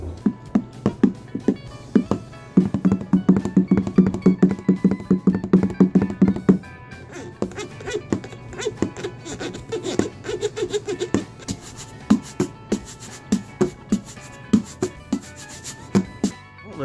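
Improvised music made on a box by hitting, scratching and rubbing it: a steady percussive groove of knocks and thumps mixed with raspy scraping strokes, with a dense, busy passage early on and sparser hits later, close and continuous.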